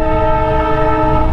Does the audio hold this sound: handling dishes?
no